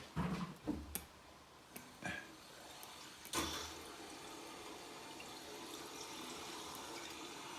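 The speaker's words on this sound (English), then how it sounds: "Now we're starting to fill the system with mains water." Mains water rushes steadily from a tap into a home heating system's pipework, a continuous hiss after a few clanks and knocks at the start.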